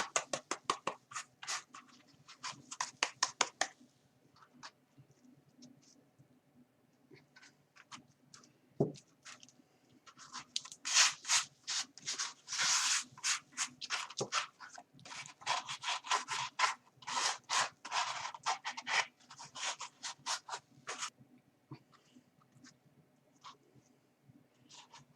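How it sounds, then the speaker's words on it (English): Glitter-coated high-heel shoes rubbed by hand to remove excess glitter, a dry scratchy rubbing in irregular bursts, close and fairly quiet, denser in the middle stretch, with no talking. "I'm just going to rub off any excess glitter"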